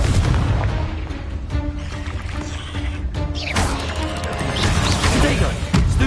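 A Confringo explosive fire spell blasts in Hogwarts Legacy, loud booming and crashing impacts layered with game effects and scattered voices over a dense, constant rumble.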